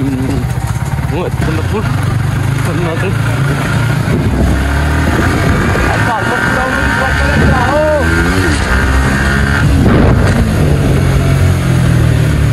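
A 155 cc motorcycle engine runs continuously close by with a steady drone and occasional rises in pitch, heard under ongoing conversation.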